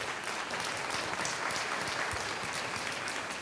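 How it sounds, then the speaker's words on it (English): Faint, distant applause from the audience at a school awards celebration, a steady wash of clapping through the short span. "How about a round of applause?"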